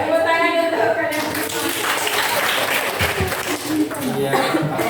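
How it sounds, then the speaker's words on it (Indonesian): Schoolchildren in a classroom clapping their hands after a group activity, a dense burst of applause with some chuckling and children's voices mixed in throughout. "Tepuk tangan untuk kalian."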